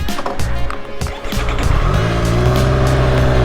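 A 2020 Triumph Street Triple RS motorcycle pulls away on a rainy road, its engine revving up from a loud close idle into a rising steady drone, with wet tyre noise and no voices.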